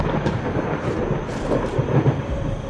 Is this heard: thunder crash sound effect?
yes